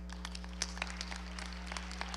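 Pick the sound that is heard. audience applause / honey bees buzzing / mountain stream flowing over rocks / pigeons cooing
audience applause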